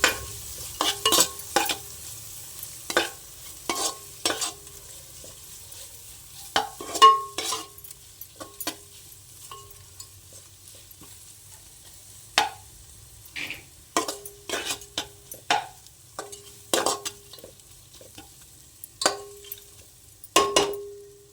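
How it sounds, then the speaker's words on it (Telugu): A spoon stirs ginger garlic paste frying in a pan for plain biryani rice, giving repeated close scraping strokes against the metal over a soft sizzle, with quiet pauses between the bursts of stirring. "బాగా మిక్స్ చేస్తాను."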